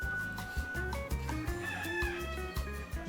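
Farm chickens cluck in quick, repeated bursts while a rooster crows nearby. The calls are close and fairly loud, and no voices are heard.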